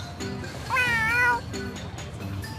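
A cat meows in a video game, one clear rising, drawn-out call standing out against soft background game music and ambience.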